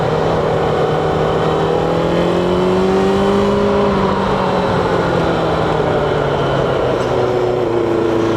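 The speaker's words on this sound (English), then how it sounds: "That could be because I'm revving very high though." A motorcycle engine revs high and steady, its pitch rising then easing slightly, loud and close throughout with no talking.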